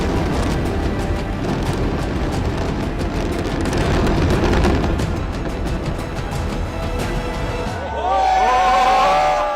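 A long, heavy rumbling roar of serial explosions as the Twin Towers skyscrapers in Noida collapse in demolition, with crowd noise mixed in, easing off near the end.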